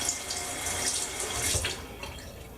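Tap water runs into a sink to rinse a Merkur 34c HD razor fitted with a Feather blade, a steady close splashing stream with a brief swell as the blade passes through it.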